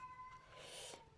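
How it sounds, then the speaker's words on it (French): A single drawn-out cat meow indoors at home, fairly quiet and slightly distant, rising then falling in pitch. "Ah, ça, c'est mon chat, ça."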